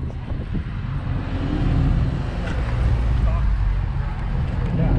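Autocross race car approaching and rounding a corner at a paraplegic ride-along event, a steady loud engine roar rising and holding throughout with people talking nearby over it.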